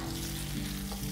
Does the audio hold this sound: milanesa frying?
yes